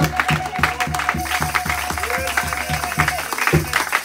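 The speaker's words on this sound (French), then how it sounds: "Est-ce qu'on peut donner les acclamations au Seigneur?" A church congregation applauds during a sermon, clapping and cheering at moderate volume over a steady rhythmic low beat, with voices mixed into the crowd noise.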